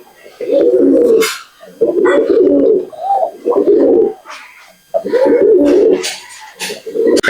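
Old Generation Madrasi pigeons cooing up close, loud repeated throaty bursts in an irregular rhythm, with brief pauses between calls.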